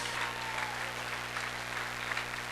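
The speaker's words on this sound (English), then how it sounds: "Let's have another nice round of applause for our seniors." A high school basketball crowd applauds the senior players in a gym, a steady wash of clapping heard at a moderate distance over a constant low hum, with no talking over it.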